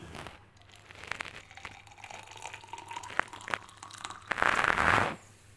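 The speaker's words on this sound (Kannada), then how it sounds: "ಕುದಿಯೋ ನೀರು ಹಾಕಬೇಕು" Boiling water poured from a vessel into a cup over grated ginger and a few mint leaves, starting as faint trickles and light clinks, then a louder gushing pour near the end before stopping.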